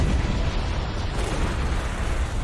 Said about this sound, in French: en 79 de notre ère, le Vésuve s'est réveillé